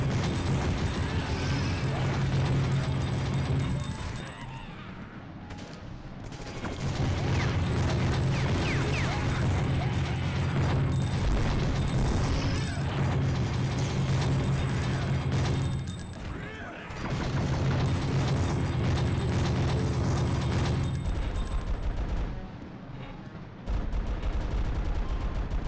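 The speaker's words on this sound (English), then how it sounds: "Somebody's shooting at me." Gunfire in the video game Gungrave comes in dense, loud bursts of rapid shots with mechanical clatter, broken by brief pauses of near silence between volleys.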